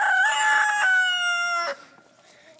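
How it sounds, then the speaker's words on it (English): Young rooster crowing close by, a single strained, slightly cracking crow lasting under two seconds, loud and alone, then quiet room tone. "The first crow of the day."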